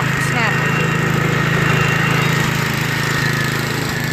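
A Snapper 25066S riding lawn mower with a 6HP Tecumseh engine runs steadily and loudly up close, a constant droning hum with a buzzy mechanical rattle throughout and no pauses.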